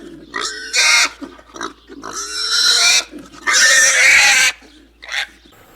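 A pig grunts low and then breaks into long, loud, shrill squeals in repeated bursts, close by and alone.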